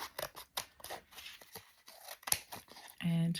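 Scissors cut away excess paper card stock in a series of close, crisp snips and rustles, interrupted briefly by talking, ending in a short sustained tone.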